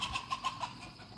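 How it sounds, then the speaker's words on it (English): A chicken squawks in quick repeated bursts after touching an electric hot wire around a chicken coop, several sharp calls close by and alone. "Chicken just got in the hot wire."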